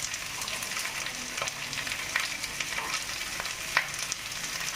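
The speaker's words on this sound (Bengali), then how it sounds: "ঠিক আছে, চলো এগুলো ভাজা চলছে।" Capsicum and onion fry in hot oil for chilli fish, giving a steady close sizzle broken by small stirring clicks and scrapes, with no voices.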